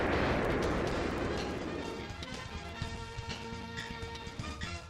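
A bomb goes off in a shoot 'em up video game: a loud, broad blast at the start that rumbles and fades over about two seconds, leaving busy game sound effects ticking on behind it.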